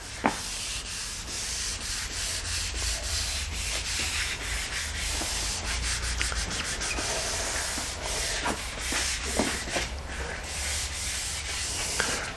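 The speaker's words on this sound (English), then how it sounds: "Here you can see Tom hard at work sanding a 25-foot folk boat." Steady, continuous sanding on the wooden hull of a 25-foot folk boat between varnish coats, a close, even abrasive rubbing that runs throughout with occasional brighter scuffs and no talking.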